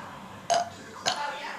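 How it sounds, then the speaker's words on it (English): Two short burps from a person, each a brief gravelly belch separated by about half a second, close and clear against a quiet room background. "I'm the one that burps."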